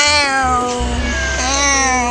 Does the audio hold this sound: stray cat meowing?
yes